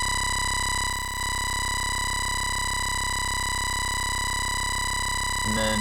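A harsh, buzzing distorted synth bass tone from FL Studio's sampler, with bright layered overtones, holds steady, briefly dipping once, then a short gritty burst at the end.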